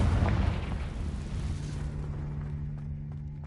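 Confringo spell explosion in the video game Hogwarts Legacy, a loud deep boom that rumbles and fades over a few seconds, with no talk.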